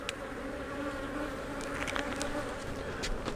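Honey bees buzzing around a hive after a swarm returns, a dense steady drone of many insects close by, with scattered brief higher buzzes as individual bees fly past.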